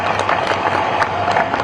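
Audience at a speech in Vijayawada breaking into applause, a dense burst of many hands clapping together, loud and close, with crowd noise mixed in.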